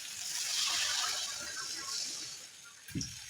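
A jug of water poured into a simmering curry makes a close, steady gushing and splashing rush that tapers off, ending with a soft knock.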